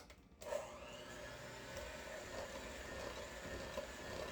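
An electric mixer whirs steadily and close while blending coconut pie filling. It starts after a short pause, and its tone shifts slightly as it runs.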